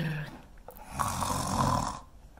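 People imitate snoring reindeer at a preschool Christmas storytime, making a drawn-out nasal snore that swells and fades over about two seconds, close and fairly loud.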